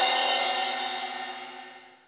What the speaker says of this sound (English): A cymbal.